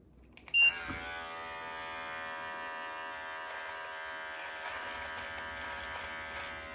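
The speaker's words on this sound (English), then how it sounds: "6mm guard onto my Brio Beardscape trimmer." Brio Beardscape electric trimmer fitted with a 6mm guard switches on with a brief click and then buzzes steadily and close up, a bright continuous hum with no talking.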